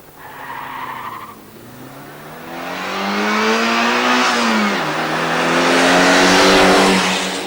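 Saab Turbo and BMW 528 accelerating hard side by side from a standing start over a quarter mile, engines revving up through the gears with rising pitch, a brief tire squeal, loud and continuous.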